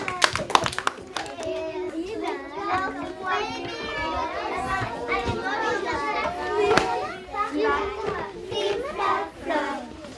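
Kindergarten children in a classroom clap for themselves, a short patter of small hands early on, then lively children's chatter and an adult voice talking over the noise.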